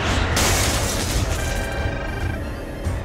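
A heavy explosion of incoming fire striking a ship in an audio drama booms out loud and close, followed by a sustained rumbling roar and crackling debris that slowly fades.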